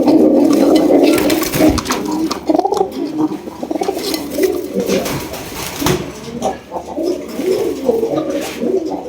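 A pair of purebred pigeons coo repeatedly up close, soft throaty calls rising and falling in overlapping bursts with no talking.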